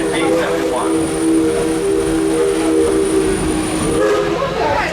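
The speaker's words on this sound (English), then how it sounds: "Wow, the sound of that steam train." A steam train at Six Flags St. Louis chugs and rumbles close by, with a steady whistle-like tone held above it and a voice talking over the noise.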